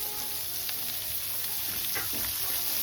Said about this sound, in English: So now we're going to go in with our onions, carrots, and celery and garlic, just been roughly chopped